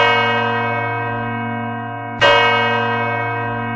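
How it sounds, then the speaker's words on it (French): A large French church bell rings with a long, sustained humming tone; a second strike lands partway through, renewing the bright clang before it decays slowly over the steady drone. "Les sonneries de cloche sont de plusieurs types."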